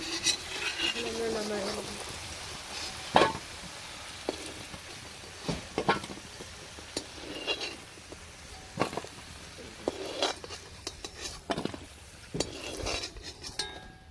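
Potatoes fry in a pan while a spatula stirs and scrapes them, giving sporadic metallic clinks and scrapes over a low steady sizzle, close by and without talk.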